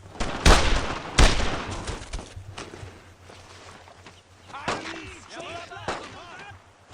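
Gunfire from an MG42 machine gun during the Utah Beach battle in Brothers in Arms: Road to Hill 30, with two loud, sharp bursts near the start followed by fainter battle noise and voices talking.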